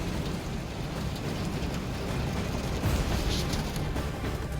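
Heavy rain from Typhoon Ragasa pours down steadily alongside fast-flowing storm water, a dense, continuous roar that stays loud throughout.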